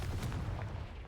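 A fiery Confringo explosive spell from the wizarding game Hogwarts Legacy bursts as a short, heavy boom with a rumbling low-end tail.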